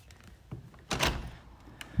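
French doors in a house being opened, giving a couple of soft handle clicks, then a louder rattling thud as the door swings, and a final knock, close by with no talking.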